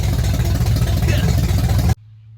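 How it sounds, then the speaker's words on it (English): A car engine fitted with an Edelbrock carburetor idles steadily, a loud, close, low rumble with an even pulse for about two seconds before it cuts off abruptly into near silence. "Okay, well, you heard it idling."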